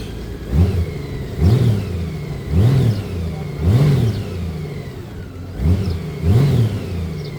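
A Honda Goldwing touring motorcycle engine runs steadily nearby, with repeated throttle blips rising and falling in a regular rhythm over a deep rumbling idle.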